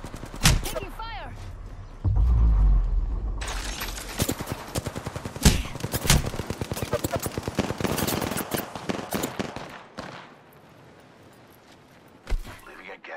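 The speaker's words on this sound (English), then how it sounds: "Getting shot at." Rapid bursts of gunfire in the video game Apex Legends ring out through a chaotic firefight, loud repeated shots with brief pauses, mixed with game effects and a voice calling out under the shooting.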